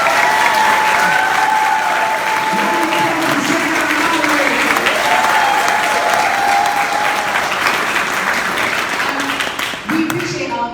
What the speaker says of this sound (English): So a round of applause for Carolyn and Tom.